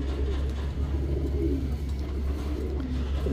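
Breeding-purpose pigeons coo in low, rolling calls, close and steady against a constant low hum, with no talking.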